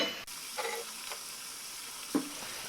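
Radish kofta frying in hot oil on a low-medium flame: a steady faint sizzle runs throughout, with a few soft stirring or dropping touches breaking through it.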